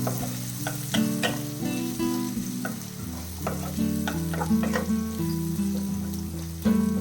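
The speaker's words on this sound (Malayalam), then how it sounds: "വലിയൊരു സവാള ചെറുതായിട്ട് കട്ട് ചെയ്ത് ഇങ്ങനെ വഴറ്റിയെടുക്കാം" Chopped onions sauté in a pan for chicken kondattam, a steady crackling sizzle broken by spoon-stirring scrapes, all heard under continuous background music.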